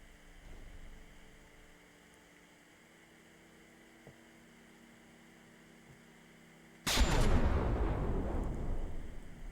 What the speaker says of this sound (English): getting some early shots in with the front blast guns